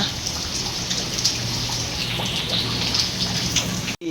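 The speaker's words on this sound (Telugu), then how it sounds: "ఇలా చూస్తేనే కిటికీ నుంచి వర్షం పడుతుంది" Steady, dense rain hisses close by outside a window, with scattered patters of drops hitting a surface throughout.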